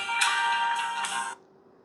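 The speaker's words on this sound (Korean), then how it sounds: "또 저쪽 고등학교에서 전화가 왔네요" A phone ringtone sounds during a talk, an electronic melodic ring that plays loud and clear for over a second and then cuts off, leaving a faint room hum.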